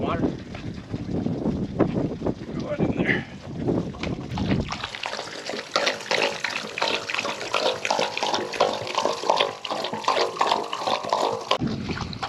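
Water pours into a livestock water tank, a steady splashing gush that continues after a voice speaks at the start.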